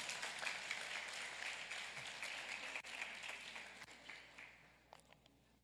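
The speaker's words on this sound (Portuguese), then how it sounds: "Uma salva de palmas para eles." An audience at a church talk gives a sustained round of applause, dense clapping that stays steady and fairly loud before tapering off near the end.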